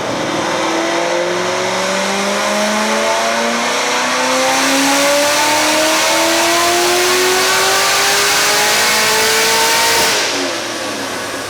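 A Chevy S10 engine winds steadily up through its revs on a dyno pull, loud and close, holding a rising roar for about ten seconds before dropping off abruptly.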